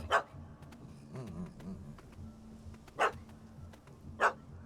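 A dog in The Witcher 3 game barks in three sharp, separate bursts, spaced a few seconds apart over a quiet, low ambient background, with a brief whine between the first and second barks.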